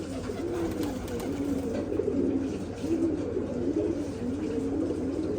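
Adult pigeons and young squabs cooing together in a continuous, overlapping murmur of low throaty calls, close and steady throughout.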